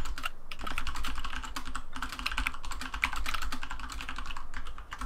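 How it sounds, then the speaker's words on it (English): Fast typing on a computer keyboard during a Rust gaming session, a dense run of close, crisp key clicks in quick bursts with brief pauses, with no talking. "Are you typing in game, boss?"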